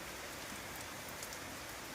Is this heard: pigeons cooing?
no